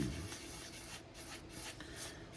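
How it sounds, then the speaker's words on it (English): Fine 1000-grit sandpaper lightly rubbed over paint on a 1964 Chevrolet Impala model car, a faint, soft, close scratching with a few quick strokes; no one speaks. "This is a 1000 grit, and I'm just lightly going over it."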